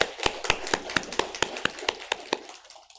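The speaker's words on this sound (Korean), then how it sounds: "우리 하나님께 감사와 영광의 박수를 올려드리겠습니다" Claps ring out during a Korean church Sunday worship service, about ten crisp, evenly spaced strikes in a steady rhythm before fading to quiet, with no voices over them.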